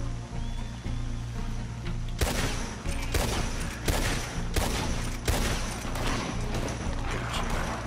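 Gunfire in the Red Dead Redemption video game: a sustained, close battle of repeated sharp shots in irregular bursts over a constant background hum, with no talking.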